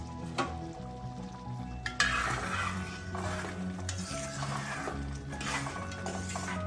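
Aravana payasam with ghee bubbling in a pot, a steady close sizzle and simmer throughout with scraping stirs and occasional metal clinks of the spoon against the vessel.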